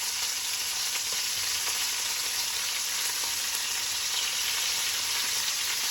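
Steak frying in a pan with butter and thyme just added, giving a dense, even hiss of sizzling fat that holds steady and loud throughout without a break.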